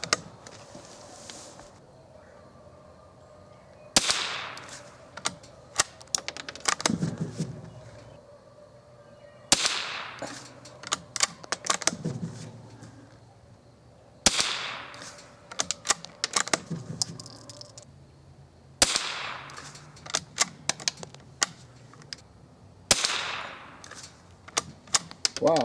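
Five sharp rifle shots from a Winchester 69 firing CCI standard velocity ammunition at a 27-yard range, spaced several seconds apart, each a loud crack with a short ringing tail and mechanical clicks between shots.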